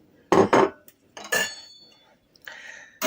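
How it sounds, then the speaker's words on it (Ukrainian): A spoon clinks and scrapes against a pot as lavender decoction is stirred into heated milk for caciotta cheese, a few sharp metallic knocks separated by quiet gaps. "перемішую"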